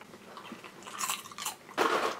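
Chewing and biting on an espresso martini flavoured pub snack, a soft, chewy bite with some crunch, heard up close as a few moist crunching bursts, the loudest near the end, with no talking.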